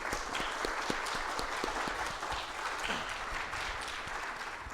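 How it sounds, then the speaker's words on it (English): Faint, distant applause from an audience after a panel discussion: a continuous patter of many hands clapping evenly throughout. "Let's go ahead and give the panelists a round of applause."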